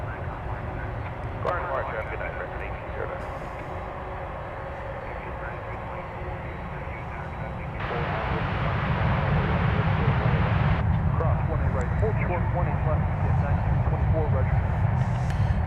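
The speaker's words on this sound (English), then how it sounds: "This is a 757 UPS flight 9324." UPS Boeing 757 cargo plane at DFW Airport, a distant roar that swells louder about halfway through and holds, with people talking over it.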